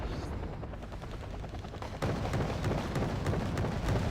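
Video game combat in Wargame Red Dragon: rapid, sustained machine-gun fire aimed at a low, fast Hind helicopter. The dense bursts continue over a rumbling background and grow louder partway through.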